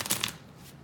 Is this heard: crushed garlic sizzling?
no